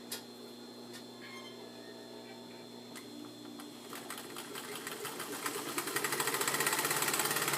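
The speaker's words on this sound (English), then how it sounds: "we're going to sew all the way around it" A sewing machine stitches fabric for a jabot swag, starting with slow scattered ticks and building into a fast, even, close mechanical chatter toward the end.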